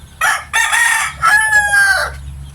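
A labuyo gamefowl rooster crows nearby, a loud, strained call broken into a few rising and falling segments over about two seconds.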